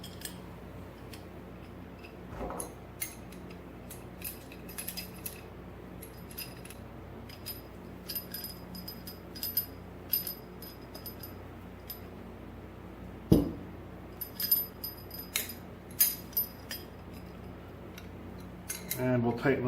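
Irrigation air hose fittings are pushed together and twisted by hand, giving small scattered clicks, ticks and plastic rubs that come and go irregularly over a quiet background, with a few sharper taps.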